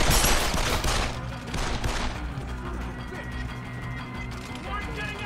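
Gunfire bursts from the video game Deus Ex: Human Revolution, a loud rapid volley up front that then trails into a dense, sustained wash of game noise and a faint tonal hum, with a voice talking over it.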